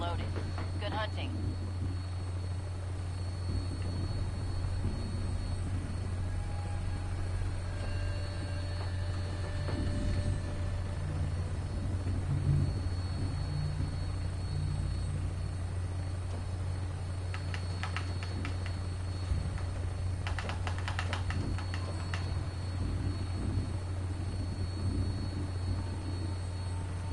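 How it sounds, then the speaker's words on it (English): Vertibird aircraft taking off in Fallout 4, a steady loud engine drone with rotor hum that continues throughout, with game voices speaking over it now and then. "Welcome aboard, Knight. Stand by for takeoff."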